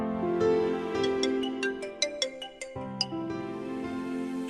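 A phone ringtone plays at night in a quiet home, a bright electronic melody of rising and falling chimed notes with a short rhythmic run of plucked tones in the middle, clear and alone.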